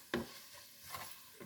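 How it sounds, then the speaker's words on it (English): Peppers and onions are stir-fried in a pan: a sharp clack of the utensil against the pan starts things off, then quieter scrapes and stirs follow over a faint sizzle, with another knock near the end. "But I'm stir frying these peppers and onions."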